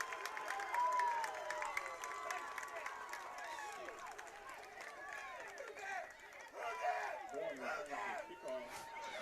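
A crowd at a Cougars football game roars and cheers during a kick return, a loud, sustained wash of voices with a play-by-play announcer talking over it.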